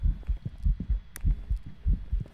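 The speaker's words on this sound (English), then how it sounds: "I have a heartbeat." A ghost-hunt heartbeat from the Phasmophobia video game: steady, low double thumps repeating about twice a second, close and muffled, with no voices over it.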